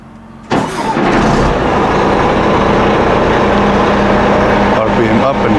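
A Liebherr 110-ton crane's diesel engine starts with a sudden loud burst, then runs with a steady, rough, close-up roar that shifts slightly near the end while a voice talks over it.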